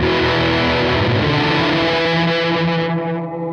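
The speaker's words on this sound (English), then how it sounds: "Up and to the right would be maximum distortion and decayed reverb." Loud, dense distorted guitar tone from a guitar pedal set to maximum distortion and decayed reverb, with a washy, decaying reverb tail, sustained throughout and fading slightly at the end.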